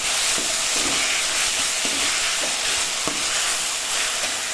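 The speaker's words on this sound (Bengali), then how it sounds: "গুড় এক হাতা গুড়। গুড়কে ভাজবো।" A ladleful of jaggery fries in a pan of five-spice seasoning for a sweet-sour dish, giving a steady broadband sizzle and hiss with faint stirring clicks throughout.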